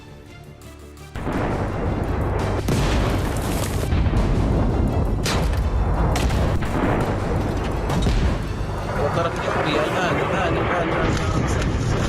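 Israeli airstrikes on Sidon in southern Lebanon, heard as a loud sustained roar of blasts and rumbling booms that swell and linger for many seconds, with distant voices underneath.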